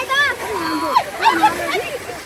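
Water splashes and sloshes at a village water source outdoors, with excited voices talking loudly over the splashing throughout.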